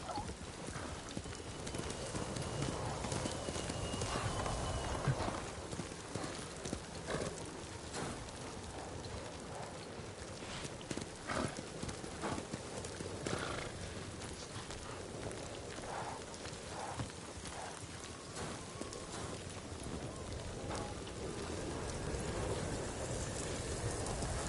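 Hoofbeats from the video game Ghost of Tsushima clip-clop steadily at a gallop over a constant background of rain-like hiss and ambient noise, with no voices.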